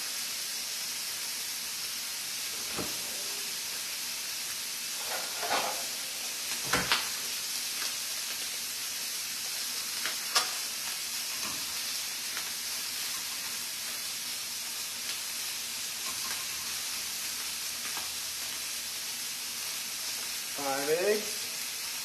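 Sausage frying in a pan gives a steady, quiet sizzle and hiss that runs throughout. A few faint clinks and stirring knocks sit on top of it, and there are brief soft vocal sounds near the end.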